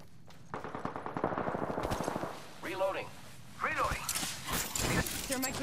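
Rapid automatic gunfire from enemies in the battle royale game Apex Legends rattles in steady bursts, then gives way to sparser shots and game effects while a voice talks over the action.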